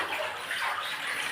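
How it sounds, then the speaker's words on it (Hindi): Water gushing fast from a spring inside a deep dug well, a continuous splashing, bubbling rush heard close up and fairly loud without pause. "ये देखिए कुएं का झरना चल रहा है, झरना से बहुत फास्ट पानी आता है"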